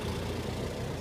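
A Ford 8N tractor engine idles in a steady, dense, low rumble, loud and close, with no pauses over the short stretch.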